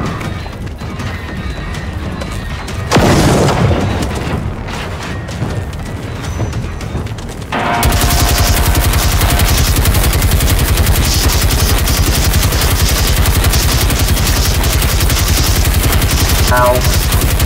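Loud, continuous gunfire from a weapon aimed at an enemy tank in the video game Generation Zero, a dense burst of rapid shots filling the second half after a quieter stretch with a single heavy crash.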